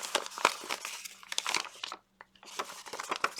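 Handmade junk journal pages of tea-stained parchment and copy paper are flipped and handled, giving dense crinkling and rustling bursts close up, with a brief quiet gap in the middle.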